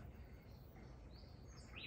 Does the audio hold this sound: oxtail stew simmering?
no